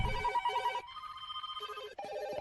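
A telephone rings repeatedly in bursts of trilling bell tone, each ring cut off by brief pauses, loud and close with nobody speaking over it.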